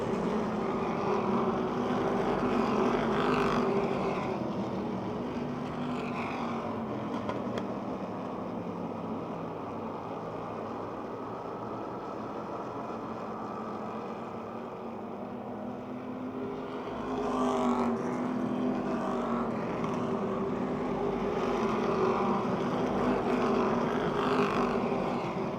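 Race cars on the paved Motordrome Speedway make a continuous engine roar, rising and falling as the pack passes, with louder surges near the start and again toward the end.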